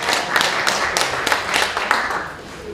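A short burst of applause from a crowd at a public debate forum, dense clapping that stays fairly loud and then begins to thin out.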